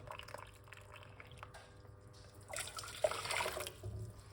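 Hot water pours steadily into a cup for about a second, a soft splashing trickle that swells, then fades, over a quiet room background.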